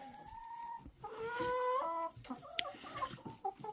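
Hens and roosters cluck and call close by while they eat and drink at a farm feeding spot, a steady run of overlapping clucks and short squawks with no talking.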